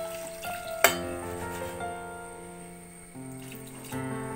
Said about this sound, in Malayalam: ഒരു 1/4 കപ്പ് വെള്ളം ഒഴിച്ചിട്ടുണ്ട്.